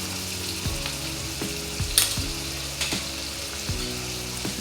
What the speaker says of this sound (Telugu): జింజర్ గార్లిక్ పేస్ట్ ఫ్రై అయింది.